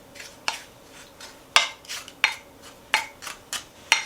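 A utensil stirring brown sugar and ground nutmeg in a bowl, producing a series of sharp scraping clinks against the side roughly every half second, close and fairly quiet with soft rubbing between strikes.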